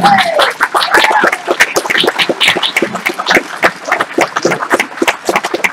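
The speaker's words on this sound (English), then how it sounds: "please give a round of applause to your Minnesota Twins!" A crowd applauds the Minnesota Twins at a team caravan event, a loud patter of many hands with sharp individual claps and some cheering over it, continuous throughout.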